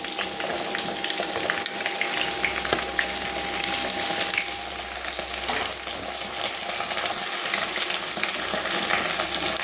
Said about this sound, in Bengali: একটু হালকা আঁচে ঢাকা দিয়ে দিয়ে একটু হালকা ভাজা ভাজা সেদ্ধ সেদ্ধ করতে দেবো